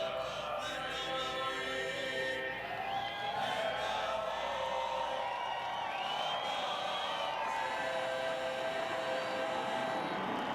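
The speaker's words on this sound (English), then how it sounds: "A nice round of applause for the 82nd Airborne Division's All-American Chorus." Large outdoor race crowd cheering and applauding for the 82nd Airborne Division's All-American Chorus, a broad, steady roar of many voices that lasts throughout, with a faint tonal hum running underneath.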